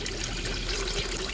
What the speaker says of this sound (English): Now I'm going to pour the sugar water into this jar.